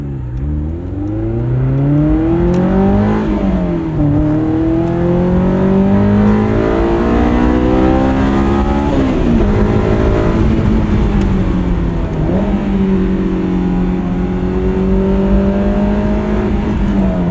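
A Honda S2000 engine revs loudly and steadily with a rough, throaty aftermarket exhaust, pitch climbing and falling through gear changes, continuous and close.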